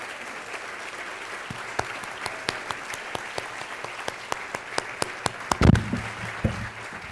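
Scattered, sparse hand claps from the audience at an advertising federation Hall of Achievement induction ceremony, with a brief cluster near the end over a steady room murmur.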